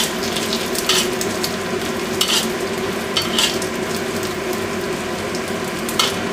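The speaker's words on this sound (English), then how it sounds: "I'm just going to saute until the sausage will be very crisp" Chinese sausage sautéing in hot oil in a pan, a loud close steady sizzle broken by periodic scraping bursts from stirring, with no voices.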